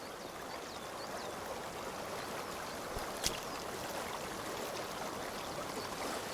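A river rushes steadily in A Juggler's Tale, a broad, continuous wash of flowing water at even loudness, with no voices and only a brief splash-like tick partway through.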